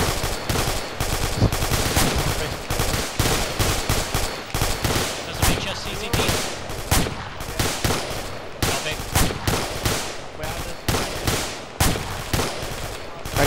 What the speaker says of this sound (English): section heavy suppression, rapid fire.